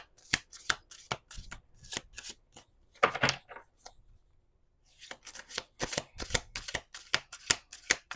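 A deck of playing cards being shuffled by hand, a series of crisp riffles and flicks in irregular bursts with a brief pause midway, close and fairly quiet.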